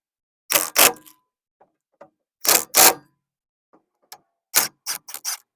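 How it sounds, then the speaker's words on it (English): A tool tightens the brake caliper base bolts on a Volkswagen Beetle during a drum-to-disc brake conversion, giving short crisp mechanical clicks in separate bursts with quiet gaps between them, close by. "Now that all 3 bolts are in there, we just snug it, and then we tighten it completely."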